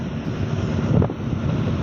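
Outdoor wind rumbling steadily across the microphone near a reservoir, a close, continuous low buffeting with a slight swell midway and no talk.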